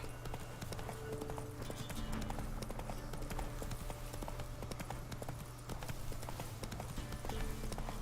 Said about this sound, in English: get on the horse, Geralt, for the love of God.